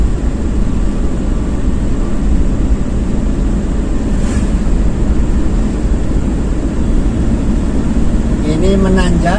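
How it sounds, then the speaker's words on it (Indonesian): A Toyota Kijang Super engine climbs a hill in fourth gear past a school, a constant loud drone of engine and road noise with someone talking over it. "Ini menanjak di SMP 2 Sumbersari memakai gigi 4. Saya tambah gasnya."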